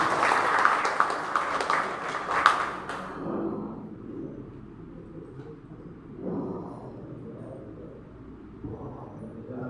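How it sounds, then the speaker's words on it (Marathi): Audience applause for organiser Dayanand Sopte at a teachers' felicitation event in Mandrem, a burst of clapping from the crowd that quickly fades into a quieter, murmuring hall. "मी तुम्हा सर्वांना विनंती करतो त्यांच्यासाठी एकदा जोरदार टाळ्या होत्या"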